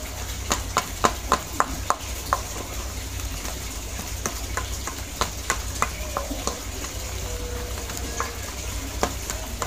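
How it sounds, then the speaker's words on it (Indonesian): Fish bait dough made with quail eggs being stirred and kneaded in a bowl, giving soft, irregular clicks and scrapes over a steady low hum of background noise. "Aduk lagi. Sampai kalis teman-teman, aduk terus."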